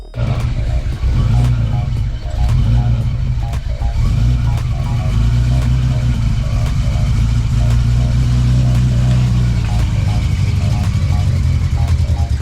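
A BMW E30 engine runs steadily at idle nearby, a continuous low rumble with slight fluctuations throughout, with some indistinct background noise over it.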